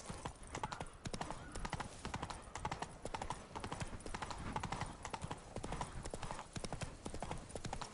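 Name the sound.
horse galloping in video game Witcher 3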